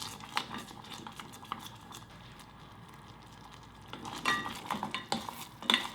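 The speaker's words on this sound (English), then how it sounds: "Turn on the heat and mix." Sweet and sour sauce for Korean meatballs stirred in a pan over medium heat, with a spoon scraping and clinking against the pan in irregular strokes that grow busier toward the end, over a soft background hiss.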